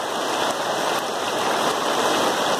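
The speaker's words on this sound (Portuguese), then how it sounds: "Muita chuva caindo hoje, ó." Heavy Sunday rain falling outdoors, a dense continuous hiss of downpour, steady and close throughout, with no voices.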